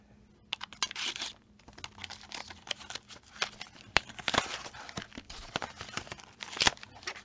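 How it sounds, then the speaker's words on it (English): Plastic and paper packaging holding crafting texture cards is handled and torn open, with crisp crinkles, rustles and sharp snaps running continuously and close up. "You also got these texture cards, which I will open now."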